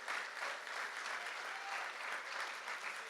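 A church congregation claps together in steady, even applause, continuous and moderately loud with no voices over it.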